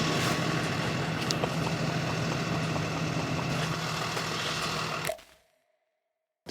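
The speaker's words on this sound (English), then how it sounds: "oh, FedEx truck is coming" A heavy delivery truck, a FedEx vehicle, rumbles steadily with a low idling engine for about five seconds, fairly loud and close, then cuts off abruptly into near silence.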